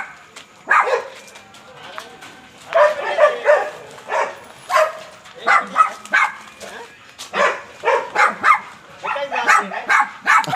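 A Rottweiler or German Shepherd barks repeatedly nearby, with loud irregular bursts and occasional yips throughout.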